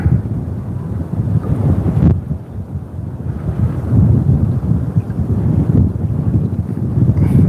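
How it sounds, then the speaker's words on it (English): Wind gusts across a small park lake with lapping waves, a steady, heavy rumble of wind buffeting the microphone that swells and dips throughout, with no speech. "Man, this wind and these waves are not what I planned on today out here."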